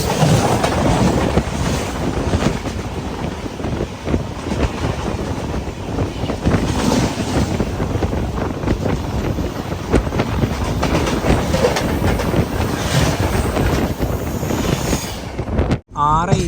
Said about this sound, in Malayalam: ആറ് 25 എറണാകുളം ടൗൺ റെയിൽവേ സ്റ്റേഷനിലേക്ക് ഇതാ നമ്മുടെ ട്രെയിൻ എത്തിക്കൊണ്ടിരിക്കുകയാണ്